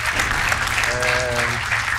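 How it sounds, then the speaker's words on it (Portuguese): Dense, sustained clapping comes from a game show audience, with a brief voice in the middle and a low musical bed underneath. "Um aplauso para ele pela coragem"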